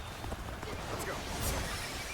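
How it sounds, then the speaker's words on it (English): Horse hooves gallop in the video game Dynasty Warriors Origins, a rapid clip-clop buried in a dense mix of battle noise and game sound, with a voice talking over it. "Horse!"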